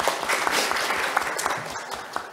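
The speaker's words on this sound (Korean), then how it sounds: "박수 부탁드리겠습니다." Audience applause at a green building awards and achievement-sharing event, a steady dense wash of clapping from a crowd filling the whole stretch, with sharper individual claps popping out now and then.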